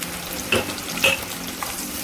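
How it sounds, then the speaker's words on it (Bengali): Large-cut onions and capsicum frying in light oil over a high flame for chilli prawns, a close steady sizzle with two short bright metallic clinks of a utensil against the pan. "পেঁয়াজগুলো বড় বড় কেটে ক্যাপসিকামগুলোই ওর সাথে ফ্রাই করে নেবো।"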